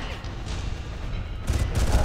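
Enemy gunfire in the Far Cry video game, a dense rattle of shots that grows louder and heavier toward the end, with no talking.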